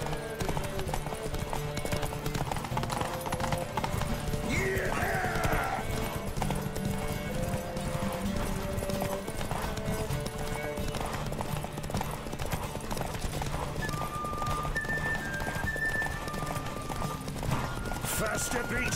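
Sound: horse Roach galloping, from video game The Witcher 3

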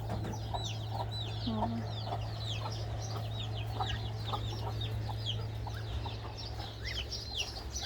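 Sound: chickens clucking

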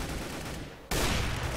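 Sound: gunshots in Counter-Strike: Global Offensive video game

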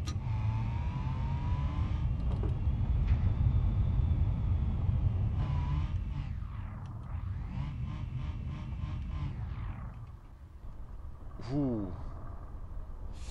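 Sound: car driving in the video game BeamNG.drive

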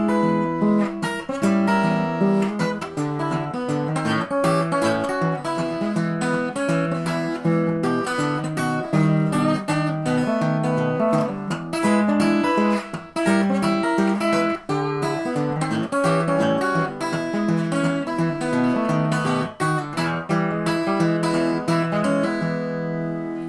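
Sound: acoustic blues guitar picked with two fingers, Hesitation Blues

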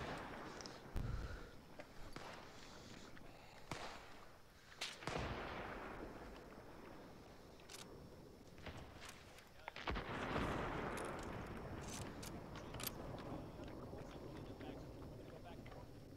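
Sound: flak gun firing in the video game ArmA 3

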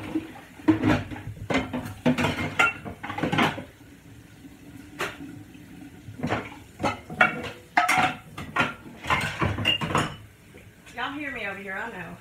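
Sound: dishes and pots clattering in a kitchen

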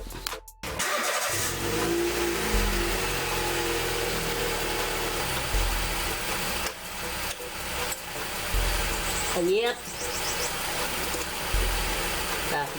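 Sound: Honda City 2012 car engine running

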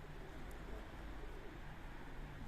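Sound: pigeons

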